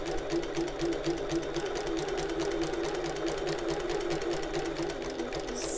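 A domestic sewing machine back-stitches along a bag pocket with a top-stitching stitch length, pivoting at the top, giving a steady, fast mechanical whirr with even rhythmic needle clatter, close and continuous throughout.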